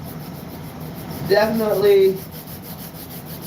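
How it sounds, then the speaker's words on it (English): A surface is sanded by hand, giving a soft, steady rubbing under a single short spoken word partway through. "Just start sanding."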